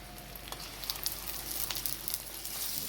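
Eggs frying in a pan for vegetable fried rice, a soft steady sizzle with small crackling pops, fairly quiet and close, no talking.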